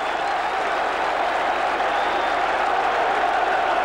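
A football crowd at Millwall roaring and applauding after a goal, a dense, steady wall of cheering that holds loud for several seconds, with a commentator talking over it.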